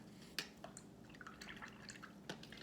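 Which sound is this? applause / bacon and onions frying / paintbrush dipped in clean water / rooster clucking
paintbrush dipped in clean water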